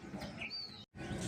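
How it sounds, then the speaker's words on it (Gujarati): Pigeons freshly let out of their box chirp and coo faintly, with a short thin call over soft rustling, brief and close. "બધા કબૂતર રખડવા લાગ્યા અહીંથી અહીં"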